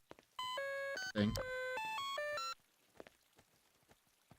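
Phone dialing in a Half-Life 2 workshop map, a rapid series of electronic tones stepping up and down in pitch, with a brief spoken word in the middle and faint rain-like ticking afterward.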